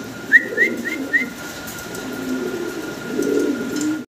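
Lahori pigeons give a short run of about four soft whistling coos near the start, followed by quiet, low background murmuring.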